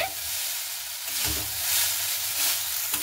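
Chow mein noodles stir-fried in a hot pan, with a steady broadband sizzle and frying hiss that swells and dips as the noodles are tossed, punctuated by a few soft scraping stirs, no voices.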